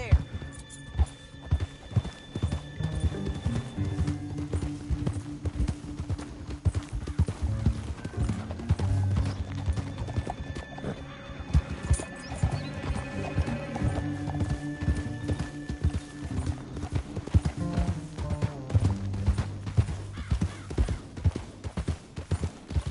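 Horse hooves clip-clop rapidly in a galloping rhythm throughout in the video game Red Dead Redemption 2, with a brief whinny and music underneath; speech is barely present.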